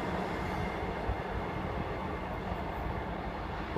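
A train from Peterborough via Sleaford passes carriage sidings at Lincoln, a steady loud rumble and roar of wheels and engine that continues with no break.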